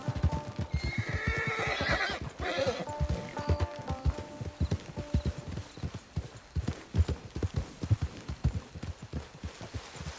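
A horse in a PS4 video game clip-clops along in a steady run of hoofbeats, with a loud neigh near the start, close and clear.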